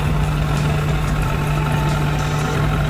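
A fishing boat's engine rumbles steadily out at sea during a net haul, a loud, continuous low drone with a constant hum and no breaks.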